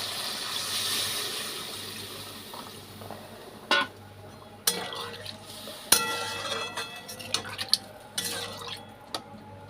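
Water is poured into a pot of vegetable curry with potatoes whose spices have been fried until the oil separates, giving a soft watery wash with a few sharp metallic clinks and drips close by.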